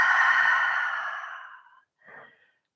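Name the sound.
exhaling breath during Pilates workout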